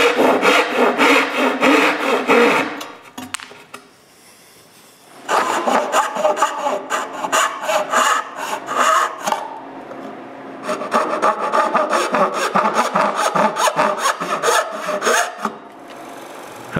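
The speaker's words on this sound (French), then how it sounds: "Je décide donc de couper toutes les queues d'aronde à la main." A hand saw cuts wooden dovetails for drawers in a workshop with steady rasping push strokes in long bursts, a short pause between runs, loud and close with no talk.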